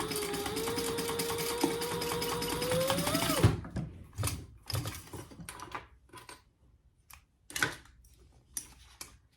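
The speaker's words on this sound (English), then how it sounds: "I'm going to just do 2 rows of stitching" A sewing machine runs a steady stitching row with a short stitch length on a phone crossbody bag, ending after a few seconds, followed by scattered handling clicks and taps.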